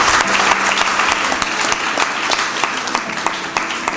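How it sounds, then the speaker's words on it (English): Applause from the audience at a student school debate, steady loud clapping with sharp individual claps standing out, continuing throughout. "Clap for them once again"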